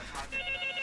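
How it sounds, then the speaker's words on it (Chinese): A telephone rings indoors in a domestic scene, a short bright electronic ring that starts after a brief burst of noise and holds steady at close range with no talk over it. "去接电话，接电话。"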